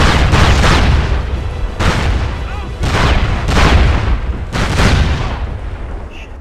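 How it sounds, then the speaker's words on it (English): Loud, repeated booms and bursts in the SOCOM Combined Assault video game, including a grenade explosion, arriving in several close, heavy waves with brief gaps between them. "Grenade!"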